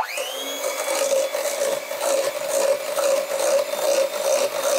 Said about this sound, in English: We cream the butter and the extract and sugar together.